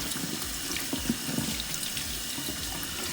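Cold water pours from a kitchen tap over a raw turkey in the sink, making a steady, moderately quiet rush with faint splashes and drips as the stream hits the bird.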